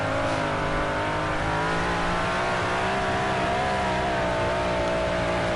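A dirt-track race car engine in the World of Outlaws racing game, a loud sustained roaring drone with steady harmonic whine, holding at high revs throughout without any speech.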